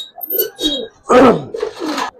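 Giribaz pigeons give several close, loud coos and short calls in quick succession, the strongest burst in the middle, with no talk.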